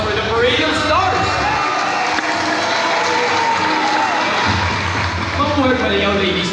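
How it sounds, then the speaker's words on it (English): A crowd at a show in a Davao crocodile park and zoo breaks into sustained, dense applause, with cheering and scattered whoops mixed in throughout. "And a round of applause for the parade of stars"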